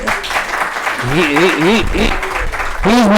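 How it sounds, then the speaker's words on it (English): An audience at a lecture claps in a steady, sustained round of applause while a voice talks loudly over it. "I just want you to give Vishnu a loud applause."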